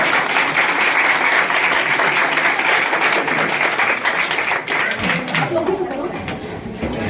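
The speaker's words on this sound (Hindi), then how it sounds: "उनके लिए जोरदार तालियां एक बार।" Loud, dense crowd applause fills a political rally, steady and sustained, thinning out near the end as scattered claps and voices take over.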